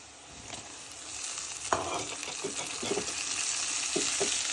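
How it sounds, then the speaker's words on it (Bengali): Rohu fish being bhuna-fried with onions in a pan, a steady broadband sizzle that grows louder, broken by scattered clinks and stirring scrapes, with no talking. "বড় সড়ো একটা রুই মাছ এনেছিল, তো ভাবতেছি পেঁয়াজ দিয়ে সুন্দর করে একটু ভুনা করি, তাই ঝটপট বসিয়ে দিচ্ছি"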